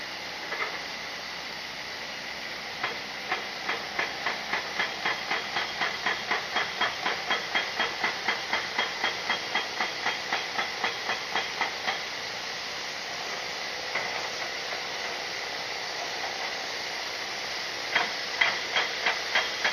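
Rapid, regular pounding bursts from tractor-mounted jackhammers breaking ground, heard at a distance over a steady hiss, pausing and then resuming.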